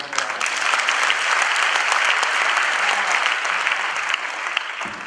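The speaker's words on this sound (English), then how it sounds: "every time I am able to answer, you have to clap loudly" A seated audience at a talk on addiction and practical life skills breaks into loud, sustained clapping that stays dense and steady for the whole stretch, with no pauses or voices standing out.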